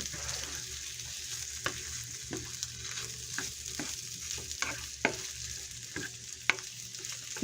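Kielbasa pieces fry in a hot pan with a steady sizzle, broken by occasional sharp pops and stirring scrapes, close and continuous with no voices.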